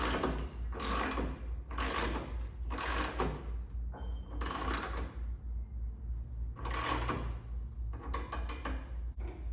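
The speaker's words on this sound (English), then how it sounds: "I'm gonna have to jack the bike up on the jack a little bit." Jack being pumped to raise a 1998 Harley Davidson Softail Springer, a series of close mechanical ratcheting strokes in an uneven rhythm over a low steady hum.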